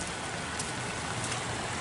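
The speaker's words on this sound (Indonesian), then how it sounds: "di sini lagi turun hujan" Steady rain falling outside a village house in the early morning, a faint continuous hiss of drops with no other sounds.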